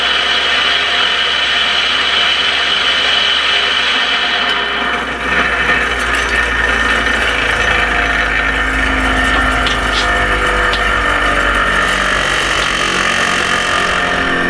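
Brick saw with newly replaced bearings starting up and running, a loud steady motor whine that rises and settles into a constant high drone.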